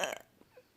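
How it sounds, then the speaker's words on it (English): One short, moderately loud burp at the start, followed by a couple of faint trailing sounds in a quiet room. "Burps."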